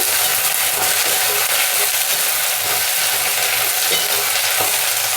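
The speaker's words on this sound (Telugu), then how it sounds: "అనపగింజలు వంకాయ ముక్కలు ఒక రెండు నిమిషాలు వేగనిద్దాము" Fresh field bean seeds and brinjal pieces frying in a pan make a loud, close, constant sizzling hiss, with stirring scrapes mixed in and no voice heard.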